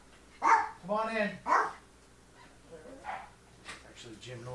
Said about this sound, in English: Oh, Jesus. That's my dog.